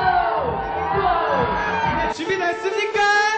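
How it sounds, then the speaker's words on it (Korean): Two hosts of a Korean music show shout excited cheers and whoops, loud and close, with crowd-like yelling throughout and a few sharper bursts toward the end. "더쇼 두 MC가 신나는 환호성을 3주간 발사합니다."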